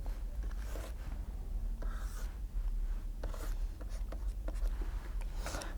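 Pen or marker drawing on a board, a quiet scratchy rub in short strokes repeated through the moment, close up and without clear talk.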